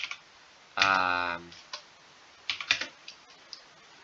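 Computer keyboard keys tapped in brief light clusters, close but faint, with a voice speaking over part of it.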